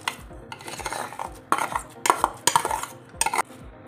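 Soaked garden cress seeds being scooped into a metal pot, with a run of irregular clinks and scrapes of a spoon against the vessel, fairly close, no talk.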